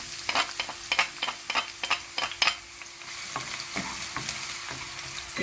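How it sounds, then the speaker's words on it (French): Chopped onion hits a hot pan with a sizzle, sharp crackling bursts repeating in quick irregular clusters over a steady frying hiss, close and moderately loud, no talking. "Je vais commencer par verser tout l'oignon."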